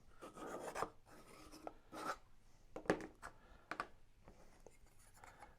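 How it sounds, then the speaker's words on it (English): A pencil rasps and scratches in short strokes while tracing the inside of a small concession stand model kit for a slot car track, quiet and close with uneven pauses. "next we take a pencil"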